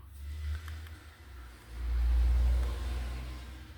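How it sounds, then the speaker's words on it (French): Cars pass nearby on a wet road in the rain with a swelling engine rumble and tire hiss, one louder vehicle surging past in the middle, no voices present. "On entend bien les voitures avec la pluie."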